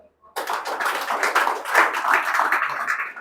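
An audience claps at a police recruitment guidance session, a sudden dense burst of applause that starts after a brief silence and holds steady for about three seconds.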